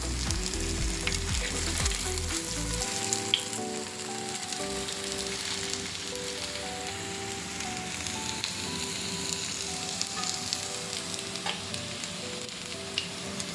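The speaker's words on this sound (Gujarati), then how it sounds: "મીડિયમ ગેસે આપણે આને ફ્રાય કરી દઈશું." Ragda patties frying in oil in a pan over a medium gas flame, giving a steady, close sizzle and crackle that runs throughout with no talking.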